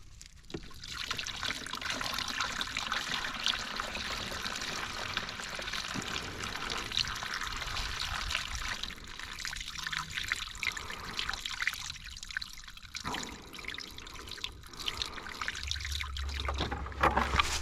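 Worm bin leachate poured into a container, a soft continuous trickle and dribble of liquid, fairly quiet and steady throughout.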